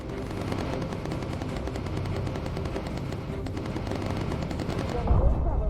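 Rapid bursts of machine-gun fire shoot at enemy fighters in the bomber game Bomber Crew, continuous rattling over droning aircraft engines, loud and dense for several seconds.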